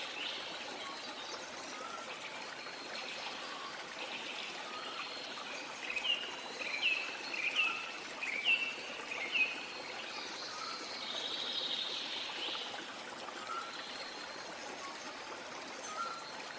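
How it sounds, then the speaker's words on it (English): Steady water flow at a waterfall in green hills near Boota village, Attock, with a few short bird chirps rising over the continuous rush around the middle, all at a moderate, even level. "Birds keep on chirping along the sounds of winds and water here is crystal clear"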